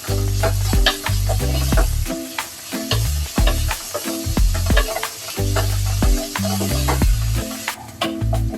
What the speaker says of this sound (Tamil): அப்போதான் சீக்கிரமா வெங்காயம் வதக்கும். நல்லா ப்ரௌன் கலர்ல ஆகுற வரைக்கும் நல்லா வதக்கிக்கலாம்.